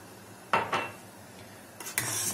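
A spoon clinks and scrapes against a metal pot as boiled milk with vinegar is stirred for homemade white cheese, two sharp clatters followed by quieter scraping and a final burst of stirring noise.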